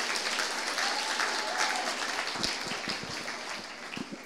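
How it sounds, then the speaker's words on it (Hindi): Audience applause at a stand-up comedy show fills the hall, a steady wash of clapping from a seated crowd that carries on for several seconds and thins slightly toward the end. "तालियां बजा लीजिए आप।"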